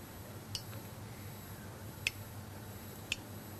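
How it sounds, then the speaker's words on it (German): Water dripping slowly into an old water clock, three sharp, faint drops landing at uneven intervals over a low, steady background hum, no talk. "Hier tropft langsam das Wasser hinein und der Wasserstand hebt sich."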